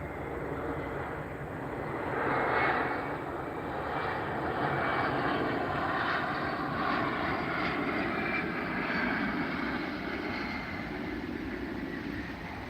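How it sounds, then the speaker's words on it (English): An old Boeing 717 airliner passes overhead with a steady, broad jet roar that swells and holds for over twelve seconds, moderately loud against the open air. "This is an old 717."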